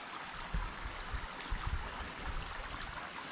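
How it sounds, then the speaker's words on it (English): Continuous rushing water, like a small creek flowing nearby, with occasional low thumps and bumps mixed in. "we got a little creek over here"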